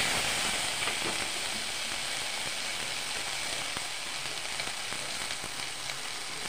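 Ground cumin, ground coriander, ginger paste and chili paste sizzle and fry in hot oil for a banana-blossom kofta curry, a steady close hiss throughout with no talking.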